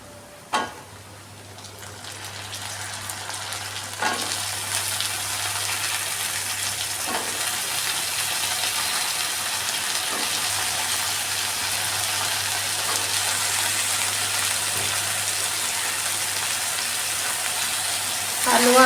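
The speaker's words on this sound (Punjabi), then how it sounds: "ਜਦੋਂ ਆਪਾਂ ਹਲਕੇ ਸੇਕ ਤੇ ਨਾ ਥੋੜਾ ਜਿਹਾ ਆਪਣਾ ਨਰਮ ਹੋ ਜਾਣਗੇ ਆਲੂ ਤੇ ਥੋੜੇ ਜਿਹਾ ਤਲੇ ਜਾਣਗੇ" Potatoes dropped into hot oil with softened onions for aloo faliya sabji set off a loud, steady frying hiss that holds for many seconds, with a few clanks of a spoon at the start.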